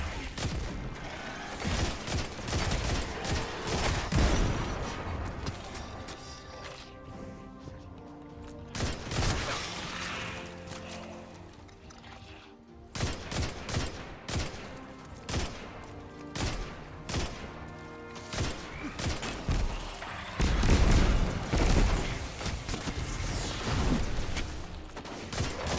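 Gunfire in the video game Destiny 2, rapid bursts of shots and heavy blasts coming in dense volleys with short lulls, loud and close, with occasional talk mixed in.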